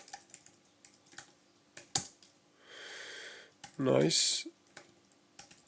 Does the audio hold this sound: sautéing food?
no